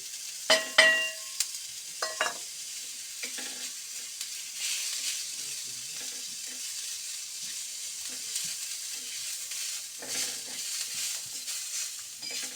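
Onions fry in oil in a kadhai, giving a soft, steady sizzle with occasional stirring clatters near the start and later, heard close but fairly quiet with no voices.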